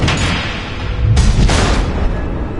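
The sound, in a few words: missiles exploding in a Batman video game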